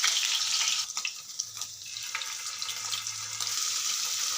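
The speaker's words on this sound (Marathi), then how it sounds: "त्यामुळं तेल चांगलं गरम झाल्यानंतरच आपल्याला पनीरचे पीस यामध्ये घालायचे." Paneer pieces frying in hot oil for mattar paneer, a steady loud crackling sizzle throughout with a few clinks of utensils, easing slightly midway then rising again.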